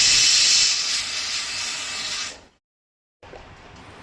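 A pressure cooker whistle venting steam while chickpeas cook, a loud close hiss that fades, cuts to silence, then returns faintly.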